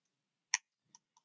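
A computer mouse clicks three times, close and crisp, with one sharper click followed by two softer ones, in an otherwise silent room.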